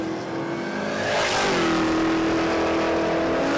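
A drag race car at Willowbank Raceway in Australia roars loudly down the strip, its engine note climbing steadily as it accelerates, heard alone and close.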